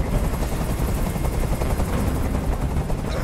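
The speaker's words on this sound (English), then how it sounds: "I can't stand that noise anymore! Tell that helicopter to get out of here!" Helicopter hovering nearby in the video game Detroit: Become Human, a loud continuous chopping rotor throb with dense rapid pulses and a steady roar throughout.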